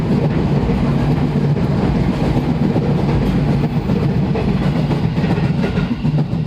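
Train rolling along rails with a steady, loud rumble and dense rhythmic clatter of wheels, continuous throughout with no voices.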